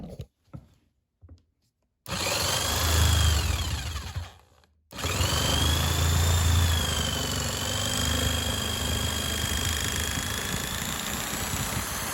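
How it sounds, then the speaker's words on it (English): Jigsaw fitted with a fine-tooth metal-cutting blade slicing through a thick rubber snowblower impeller flap, a loud close buzzing cut that pauses briefly and then continues steadily after a few faint taps. "So what I'm gonna do is use a jigsaw with a metal cutting blade."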